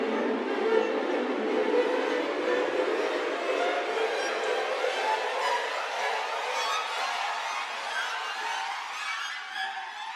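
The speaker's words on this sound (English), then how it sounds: "Try the chromatic ascending flurries." Orchestral chromatic ascending flurries from the Spitfire Albion One library, a dense shimmering wash of rapid rising strings and woodwinds that fills the whole stretch, loud and continuous, thinning slightly toward the end.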